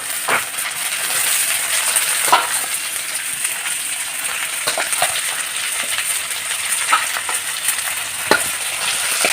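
Mutton with fried onion and bay leaf sizzles in hot oil in a kadai, a steady crackling fry broken by repeated scraping stirs and metallic clinks of the spoon, with no talking.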